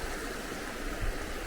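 A river flows through a deep, rocky canyon, a steady, close broadband rush of moving water with no voices and no pauses.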